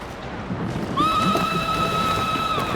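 Horse neighing in the Ghost of Tsushima video game, a single drawn-out whinny rising up and holding steady for nearly two seconds, fairly close, over a constant rain-like background hiss.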